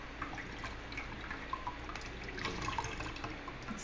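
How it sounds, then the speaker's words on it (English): Coconut milk drips and trickles out as grated coconut is strained, in faint, irregular wet drips against a quiet background. "So I see the milk coming out."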